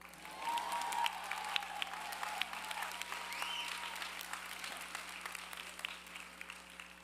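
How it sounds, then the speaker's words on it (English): Applause at a school commencement ceremony rises quickly and holds as a moderately distant, steady patter of many hands clapping, with a faint electrical hum running underneath. "Y'all can clap, it's okay."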